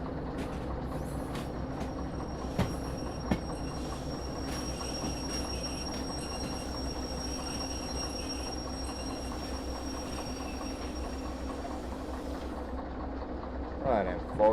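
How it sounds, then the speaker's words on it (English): In the video game Derail Valley, a train rumbles along the rails of a shunting yard under braking, with a steady low drone, a few faint clanks and a brief squeal rising near the end. "I'll just like use a train brake."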